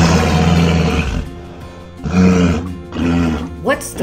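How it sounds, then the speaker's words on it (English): Loud, deep walrus calls, rough roaring bellows in several long bursts with short gaps between them, close and harsh. "Walrus calls and songs astound."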